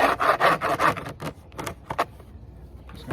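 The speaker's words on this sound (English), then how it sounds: "This side's got a little bit of wax left on it, but I don't think it's worth messing with." An old beehive frame is scraped to clear leftover wax, making a run of rough, rasping wooden strokes that are loud and close at first, then thin out into sparser scrapes with quiet gaps, no talking.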